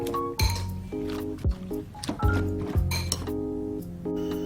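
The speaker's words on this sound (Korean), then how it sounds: "여기에 채 썬 양배추와 당근, 소금 약간, 후추 약간 이렇게 넣고 잘 섞어주세요." Shredded cabbage and carrot with salt and pepper are tossed together in a bowl, giving soft squishing rustles punctuated by several clinking knocks of a utensil against the dish, close and moderately loud.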